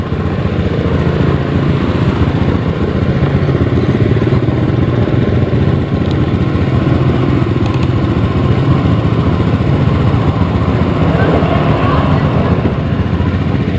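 A Honda Beat ESP scooter engine idles steadily and close by in a workshop, a continuous low, even drone with no pauses.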